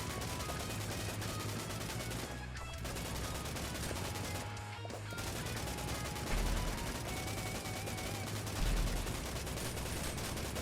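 Relentless automatic gunfire in the twin-stick co-op shooter The Horde Wants You Dead as a horde is mowed down, a dense unbroken rattle with two brief lulls and a couple of heavier thumps, no talking.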